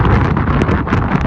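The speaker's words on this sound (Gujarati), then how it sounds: "પવન એટલો છે" Strong wind buffeting the microphone in open hilltop weather, loud rumbling gusts that swell and dip throughout the short stretch.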